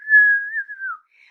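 A person whistles a single sustained tone that wavers and dips slightly before fading, followed by a brief fainter whistled note; clear, close and alone with no other sound.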